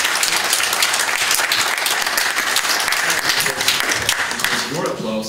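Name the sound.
audience applause at press conference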